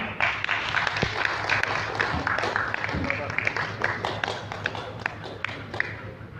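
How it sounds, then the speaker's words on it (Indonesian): Seminar attendees at a veterinary association meeting give a round of clapping, a busy stream of individual claps and taps close by, with some talk underneath. "kita berikan tepuk tangan"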